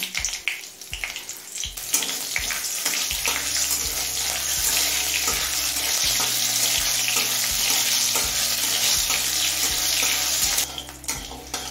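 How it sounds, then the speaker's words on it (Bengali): Black cumin and split green chilies fry in hot mustard oil, a loud close sizzle that swells into a dense steady hiss over low stirring and scraping, easing off at the end. "কালো জিরে আর কাঁচা লঙ্কাটা 30 থেকে 40 সেকেন্ড ভেজে নিলাম"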